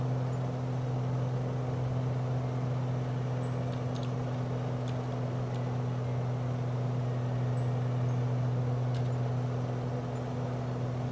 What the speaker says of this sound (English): I feel like the engine is not really responding that much when I pull down the throttle.